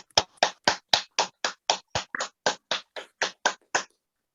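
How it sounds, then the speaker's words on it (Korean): About fourteen evenly spaced, sharp claps ring out at a Korean lecture on the armistice agreement and peace regime, loud and close, in a steady rhythm like a single pair of hands or a small group clapping in unison. "다 같이 박수 한번 쳐드릴까요?"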